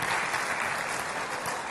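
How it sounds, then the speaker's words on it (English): A university welcome address audience applauds in a steady, dense wash of claps that fills the whole stretch at even loudness, with no voices breaking through. "So give yourself a round of applause."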